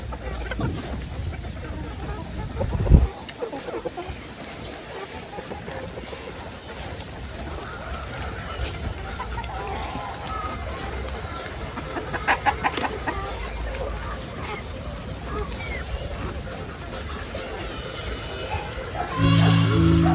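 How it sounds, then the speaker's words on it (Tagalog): Chickens cluck steadily in a coop at feeding time, a close, continuous chorus of clucks with a few louder calls. "sumo wadto ko sa manukan. Kaya kung i-check og maghatag sad kog pagkaon."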